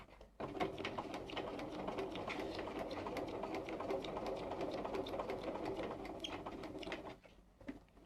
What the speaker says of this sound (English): I'm going to start at the top of this line, and I'm just going to sew